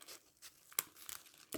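Crepe paper is cut and torn along a 7 cm strip while a paper sunflower is being made, with soft crinkling and a sharp tearing burst midway, then another at the end, all close and fairly quiet.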